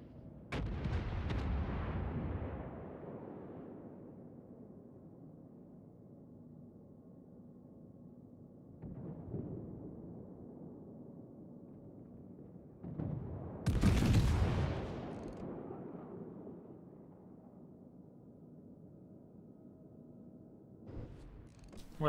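Naval gun salvos thunder out in the World of Warships video game: a loud booming blast at the start, a softer report near nine seconds, and a sharp, heavy volley around fourteen seconds, each decaying into a rumbling tail.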